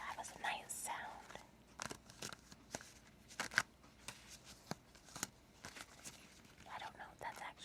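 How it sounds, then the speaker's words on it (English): Tarot cards being tapped and shuffled, heard as quiet, close, irregular papery taps and riffles with brief soft rustles, low and intimate against near silence. "tapping on them and maybe even shuffling them would have a nice sound."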